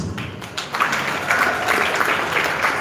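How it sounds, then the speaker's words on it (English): Audience applause for event sponsors, a steady wash of clapping from a crowd at moderate loudness that holds evenly for about three seconds. "As I mentioned their names, I would like that we follow with a round of applause"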